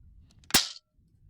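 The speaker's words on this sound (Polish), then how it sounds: "Są kulki tutaj pomarańczowe. Teraz strzelam." A toy gun firing orange balls gives a single sharp, close pop with a short hissing tail, against a quiet background hum.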